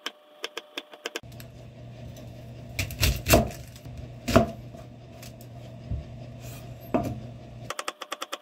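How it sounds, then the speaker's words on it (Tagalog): A knife slices bitter gourd (ampalaya) very thinly on a cutting board. Quick, crisp, evenly spaced chops open and close the clip, with a few louder knocks over a low hum in the middle. "hinihiwa ko siya ng manipis na manipis"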